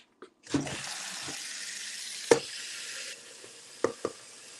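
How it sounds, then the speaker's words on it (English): Hot water runs steadily from a tap for about two and a half seconds, then the flow drops lower, with a few sharp knocks and clatters over it. "Let me get some hot water though."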